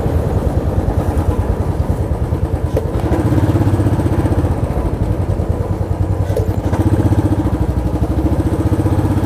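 A motorcycle loaded with a tank bag and rear luggage bag riding on a long-distance tour, its engine a loud, steady, close throb with rhythmic pulsing and wind rush throughout, no voices.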